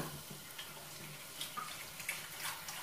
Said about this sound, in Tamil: நல்லா நிறைய தண்ணி ஊற்றி கலந்துக்கலாம்.